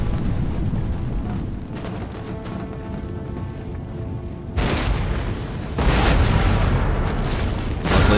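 Infantry troops in Empire: Total War fire volleys: two loud, booming musket bursts roll out in succession over a constant battlefield rumble, the second heavier and sustained.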